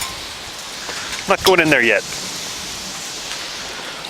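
Steady hail patters down on surfaces throughout, with a person briefly speaking partway through.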